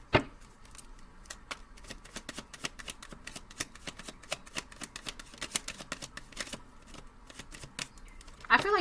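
A deck of tarot cards is shuffled steadily, the close, crisp riffling clicks repeating in a fast even rhythm with no voices over them.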